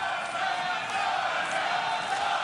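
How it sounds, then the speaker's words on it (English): Crowd at a WBA heavyweight title boxing match between Hasim Rahman and Alexander Povetkin: a steady, distant roar of many voices, rising slightly in swells with faint shouts. "And the crowd already responding to what's been a fairly quick start from Povetkin"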